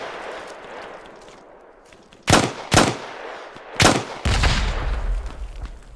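Covering gunfire in the World War II shooter Hell Let Loose: a few sharp, loud rifle or pistol shots spaced unevenly, with the last blast trailing into a rumbling boom and steady low background din.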